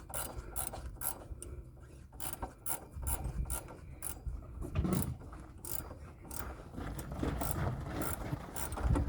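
A ratchet clicks in rapid, uneven bursts while a shock absorber bolt on a 1996 Geo Tracker is tightened, close and fairly quiet, with rubbing and scraping of metal between the strokes.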